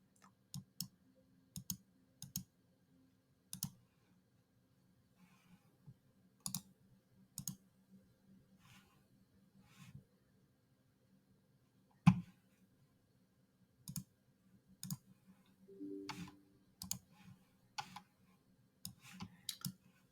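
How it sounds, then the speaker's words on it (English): Computer mouse clicks during a software installation of Azure Data Studio: crisp, close, isolated clicks scattered irregularly, sometimes in quick pairs, over near silence. "click on next a few times, click on OK, click on complete"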